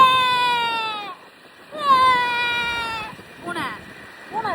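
A cat gives long, drawn-out, whining meows, two loud sustained cries close by followed by shorter rising mews, with brief quiet gaps between them.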